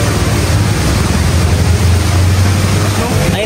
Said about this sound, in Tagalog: Ayun daw yung pinakamataas na falls dito sa buong Cebu. Tumalog waterfall.